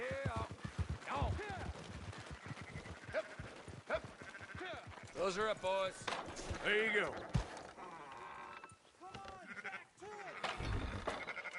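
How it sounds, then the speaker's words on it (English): Sheep in the Red Dead Redemption 2 video game bleat repeatedly, wavering calls overlapping close by amid gunfire-like cracks, while someone talks over the flock. "Fine sheep."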